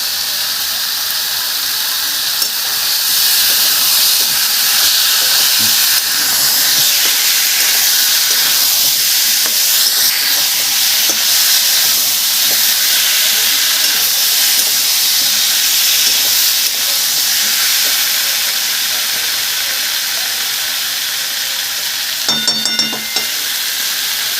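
Tomato dropped into sizzling spices in a pan for a Bengali shol fish curry, giving a steady loud frying hiss with stirring scrapes throughout and a brief sharp squeak near the end.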